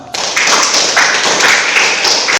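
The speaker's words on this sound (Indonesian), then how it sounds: "mari sama-sama kita beri tepuk tangan untuk kita semua" Students in a classroom break into loud, close group applause that starts abruptly and holds as a thick, even wash of clapping hands.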